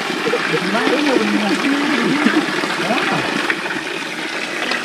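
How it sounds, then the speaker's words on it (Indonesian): Water pours steadily from the seven spring-fed spouts of Pancuran Tujuh at Kiara Payung, a continuous splashing rush that fills the scene while someone talks over it. "Ini pancuran satu dua tiga empat lima"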